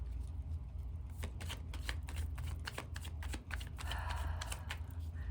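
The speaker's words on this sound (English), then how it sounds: "I'm going to keep shuffling" Playing cards being shuffled up close: a continuous riffling flutter with sharp irregular snaps, steady for several seconds over a low background hum, with no talking.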